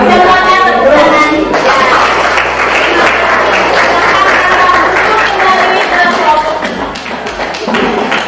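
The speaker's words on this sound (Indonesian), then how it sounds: "Semuanya tepuk tangan." Children clapping together in a classroom, loud and continuous with scattered taps and thumps, a teacher's voice audible over the noise.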